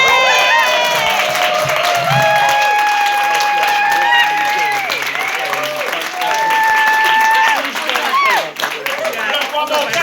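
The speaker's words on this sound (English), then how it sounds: "keep that applause going" Loud, sustained audience applause and cheering at a theatre launch night, dense clapping with whoops and shouts from the crowd, and a voice calling out over it near the end.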